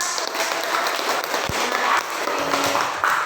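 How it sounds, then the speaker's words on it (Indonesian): Classroom applause for a student group during a teaching practice lesson, a continuous close patter of many hands clapping at fairly even loudness, with no speech over it. "Tepuk tangan untuk kelompok 1"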